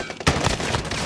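Gunfire in a Warzone battle royale match: a sharp close shot followed by a quick rattle of further shots, loud and without any voices.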